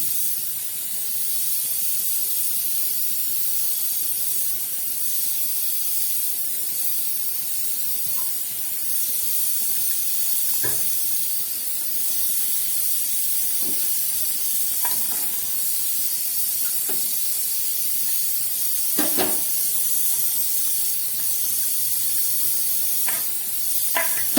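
Fried fish pieces dropped into a boiling curry broth, a constant steamy hiss and bubbling sizzle throughout, with occasional utensil knocks and clicks over it and no voices.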